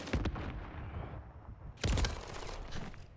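Gunfire in Modern Warfare 3 on the Incline map: two loud, sharp bursts of shots, one at the start and a heavier one near the middle, with rumbling echoes and shooting between them.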